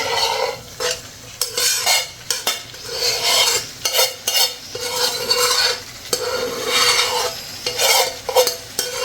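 Boiled potato curry stirred and roasted in butter in a pan, a loud sizzle broken up by repeated scraping strokes and clinks of a spoon against metal, close, with no talking.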